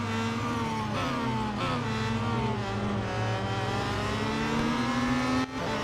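Peugeot 9X8 race car engine in the mobile racing game Real Racing 3, droning steadily at high revs with shifting harmonic pitch throughout, loud and continuous, with a brief dip near the end and no talking.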